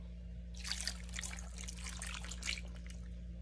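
Water poured into a pot of fish paksiw with calamansi while cooking, a splashy trickle that starts after half a second and runs steadily over a low constant hum.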